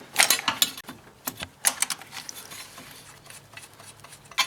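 Ratcheting wrench clicks and metallic clatter as a 13mm nut is worked loose on the EGR pipe of a 1999 Pontiac Grand Prix GTP, close up, in irregular bursts with quieter gaps and no talk.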